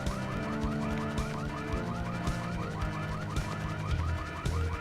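Car alarm in the video game Full Throttle, a steady looping electronic warble repeating rhythmically and fairly loud over a low engine-like rumble, with no talking.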